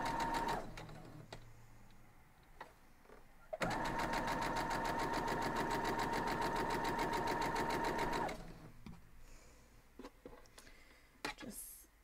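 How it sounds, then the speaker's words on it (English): A sewing machine stitches quilt pieces for a 9-inch Air Castle quilt block, a close, steady rapid whirring run of about five seconds, with a few short clicks and handling sounds before and after. "So we're just going to head on over to the sewing machine and do that."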